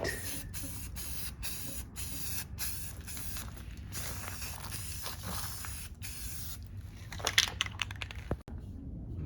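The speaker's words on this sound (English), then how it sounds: "went ahead and sprayed them, colored them, spray painted them with some white paint" White spray paint hisses from an aerosol can in repeated short and long bursts while coating parts of a backyard swing set, close and steady, with a few clicks and knocks near the end.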